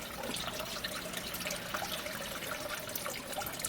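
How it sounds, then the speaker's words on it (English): Water pours steadily from a public water spout in Kakunodate, Japan, the spring water used for making miso and soy sauce, a continuous splashing gush with no speech. "Nicole, this is the water used in distilling the miso and soy sauce."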